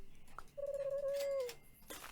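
A pigeon sound effect in a video game gives one drawn-out coo after a short chirp, clear and fairly close over quiet game background, with no speech.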